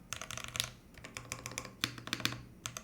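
Quiet, rapid clacking of keys on a Forever65 keyboard in an uneven rhythm, close up, with no voices.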